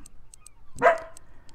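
A single short dog bark from a pet dog in a room, moderately loud, over quiet background with faint periodic high clicks from a fishing game.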